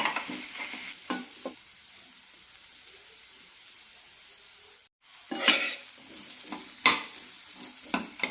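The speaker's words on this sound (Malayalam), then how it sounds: "രണ്ട് മൂന്ന് മിനിറ്റ് നന്നായി വലിയിച്ചെടുക്കാം" Green peas stir-fried in a pan give short bursts of scraping stirs and sizzling, separated by quieter stretches of soft frying and a brief silent gap.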